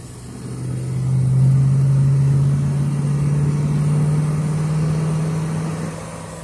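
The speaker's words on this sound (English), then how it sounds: "That seems to be running good. It's idling at 500 RPMs." A Ford Fairlane engine idles at about 500 RPM, rising slightly then holding an even, smooth drone for several seconds with no voices.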